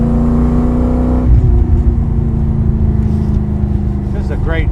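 A 1965 Ford GT40 Mk V engine pulls hard in a long first gear, a loud rising roar heard from inside the car that drops off after a shift, with someone talking over the engine.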